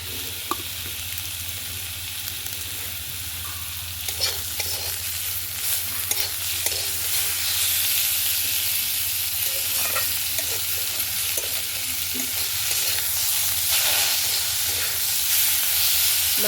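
Fish oil fries in a pan with onion greens and cauliflower, giving a loud, continuous sizzle. Frequent scraping and clattering stirring strokes run throughout the hiss, and no one speaks.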